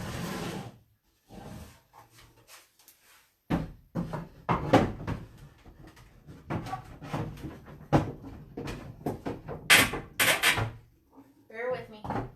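An older wooden dresser's bottom drawer scrapes and knocks as it is worked out and back in, a run of sharp wooden clunks and rubs close by, with a person talking between the bumps.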